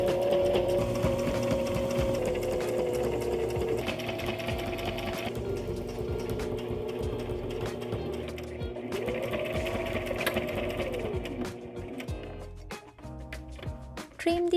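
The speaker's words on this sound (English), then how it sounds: "Now pin down the denim piece to the t-shirt and start sewing around it" A sewing machine stitches a denim piece onto a t-shirt. Its close, continuous whirring run lasts most of the clip with slight changes in speed, then breaks into short bursts and stops near the end.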